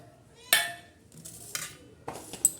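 Ground moong dal and green chilli paste being stirred together in a bowl, with a few sharp clinks of a spoon against the dish and soft scraping between them, close and fairly quiet.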